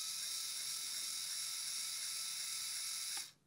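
A LEGO Mindstorms EV3 motor turns steadily, giving a continuous high whirring whine that runs evenly for about three seconds before stopping abruptly.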